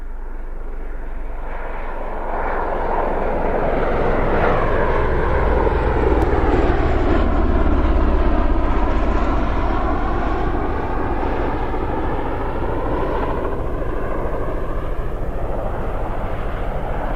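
A fixed-wing aircraft flies past at RAF Mildenhall, a loud, sustained engine roar that swells to a peak near the middle and slowly fades, with a Doppler-like shift in its tone.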